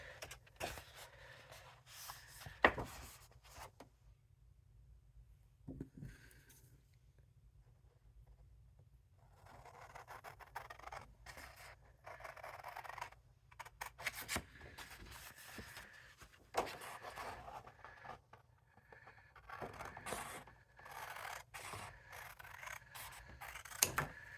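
Scissors snip and rub around a layered paper card, in irregular bursts of soft cutting and paper handling with quiet pauses between.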